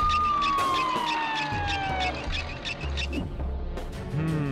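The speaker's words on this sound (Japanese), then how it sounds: "ああ、救急車！" A cartoonish ambulance siren wails in a Roblox animation, a steady wavering tone that sweeps downward, with brief squawky effects around it.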